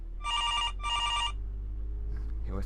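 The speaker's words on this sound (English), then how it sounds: "I want to listen to the phone call." Telephone ringing in a FNAF Scratch video game: two long electronic ring bursts, loud and close, separated by a brief gap, followed by quiet background and a faint sound at the end.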